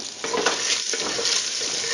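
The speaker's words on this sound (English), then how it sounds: "My onion's cooking up in that." Onions cooking in a pan for homemade spaghetti sauce give a steady soft sizzle with light stirring scrapes, close and continuous over the short stretch.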